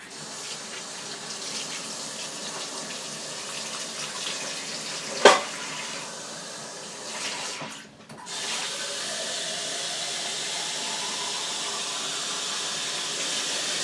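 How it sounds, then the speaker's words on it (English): Water pours over ham in a pan in a steady, close stream for the whole stretch, broken by a sharp knock and a brief dip before the flow resumes. "I'm going to pour some water over it."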